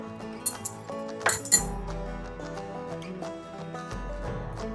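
A metal spoon clinks against a bowl of chilled custard while tutti frutti is added, a few sharp, close taps and scrapes over soft background music.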